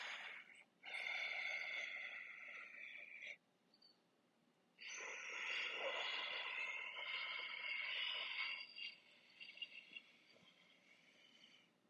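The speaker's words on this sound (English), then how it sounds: "The breathing, that was just my breath." Heavy, forceful breathing from a person straining through an isometric chest exercise, with loud breathy bursts in two long stretches separated by a quieter pause, close to the listener.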